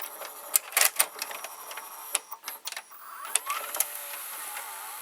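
A small VCR motor turns a worm gear that drives a cam gear and a black cam gear in an Orion-made Memorex or Toshiba deck, giving faint irregular mechanical whirring with scattered clicks and ticks.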